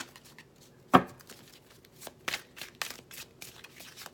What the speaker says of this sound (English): when am I supposed to be done shuffling?